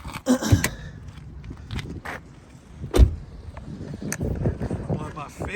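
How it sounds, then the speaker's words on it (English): The hood of a Dodge Charger R/T with a 5.7 engine is popped open: a sharp mechanical clunk of the latch and panel stands out amid handling noises, wind rumble and someone speaking. "Let me pop the hood."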